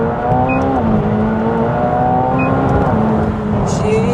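McLaren 720S sports car engine climbing through its revs in first gear, a loud steady drone with rising harmonics heard from inside the cabin, with a brief voice at times.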